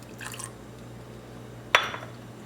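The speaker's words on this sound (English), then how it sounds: "now we put the borax in" Borax pours into a homemade slime mixture with a brief wet drip and splash, faint liquid sounds near the start and a sharper splash later over a quiet room.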